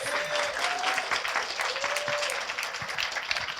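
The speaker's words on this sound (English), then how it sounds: "Round of applause." Conference audience at a game design talk in Kuala Lumpur applauding steadily, a dense wash of many hands clapping throughout, with a faint whistle or two over it.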